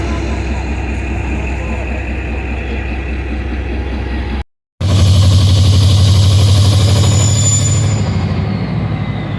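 A loud diesel locomotive, ZCU 30 6314, rumbles close by with a deep, steady drone that drops out briefly and then returns heavier.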